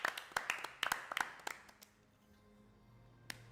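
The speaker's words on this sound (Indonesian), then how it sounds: "Lanjut, tepuk tangan dulu." A small group claps in sharp, uneven bursts for about two seconds, then a quiet stretch with a single late clap, at the opening night of a marathon livestream in a new house.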